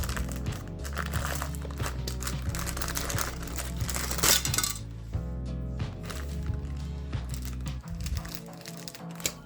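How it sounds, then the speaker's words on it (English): Plastic bags of parts for a Trumpeter KV-1 Ehkranami model tank kit crinkle and rustle close by, with steady crackling and occasional sharp clicks over a continuous background bed throughout. "let's open these plastic bags and start working."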